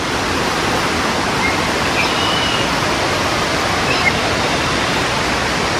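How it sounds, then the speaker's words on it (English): Recorded rushing water played through speakers inside a Las Vegas casino: a steady, broadband hiss like a waterfall, loud and unchanging, with faint bird chirps mixed in. "They did a really good job of making this sound like rushing water."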